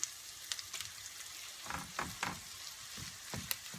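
Minced meat and onions fry quietly in a pan for stuffed aubergines, with a faint, soft crackle and a few gentle stirring scrapes in the middle.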